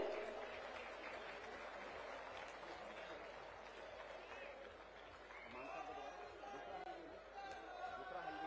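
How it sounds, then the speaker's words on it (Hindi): An audience at a political rally with the Delhi and Punjab chief ministers claps and chatters, a moderately faint, busy wash of applause with crowd voices mixed in and swelling slightly toward the end. "जोरदार तालियां आपकी तरफ से आनी चाहिए।"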